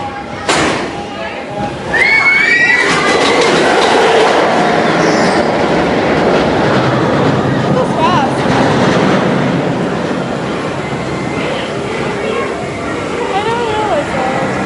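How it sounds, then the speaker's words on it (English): An amusement park train at Knott's Berry Farm rolls into its station, a loud sustained rumble with squealing wheels and clattering rail noise, growing close and continuing under people talking. "The train is rapidly approaching the station."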